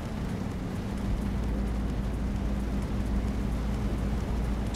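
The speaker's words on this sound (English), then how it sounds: "It's been raining forever." Steady rain pours down in the Euro Truck Simulator 2 driving game on a UK road, a constant dense hiss over a low engine rumble, continuous and even with no talk.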